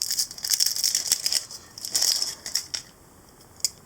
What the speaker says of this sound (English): Get the skin off the onion.